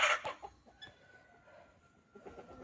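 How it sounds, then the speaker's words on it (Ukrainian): Chickens cluck and chatter softly nearby in scattered short calls, with a louder squawk at the start. "Тут зараз кури доїдять."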